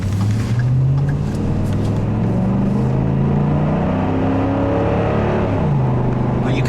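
A 2013 Ford F-150 SVT Raptor V8 truck driving, its deep engine drone rising and falling through gear changes as it accelerates, loud and steady throughout with no talking.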